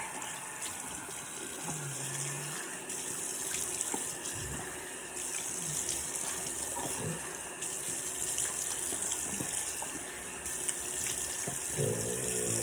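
A bathroom tap runs steadily while someone rinses their face at a sink, water splashing and gushing close by with occasional hand splashes throughout.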